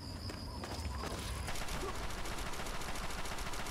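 Gunfire in the video game Fallout 3, a fast run of sustained, rattling shots that continue without a break, with a faint high tone at the start.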